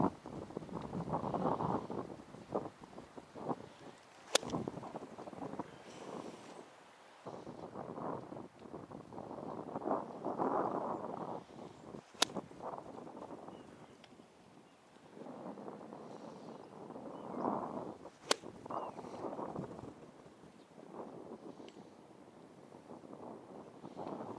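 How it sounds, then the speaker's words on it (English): Gusty wind roars and buffets the microphone in rising and falling waves at an outdoor golf driving range, with a few sharp clicks cutting through. "God damn, it is windy."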